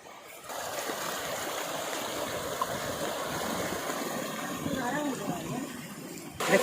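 A waterfall stream flows along a forest path near Maa Ratnai temple in Odisha, a continuous rushing splash that stays steady and fairly close, ending with a brief bump.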